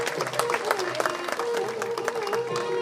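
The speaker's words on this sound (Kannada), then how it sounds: "ನಿಮ್ಮೆಲ್ಲರ ಅಭಿನಂದನೆಯ ಪ್ರೀತಿಯ ಚಪ್ಪಾಳೆ ಬರಲಿ ಎಲ್ಲ 5 ಸಾಧಕರಿಗೆ" Applause from an audience at a lifetime achievement award ceremony honouring five winners, steady clapping under a faint ongoing tone and some background voices.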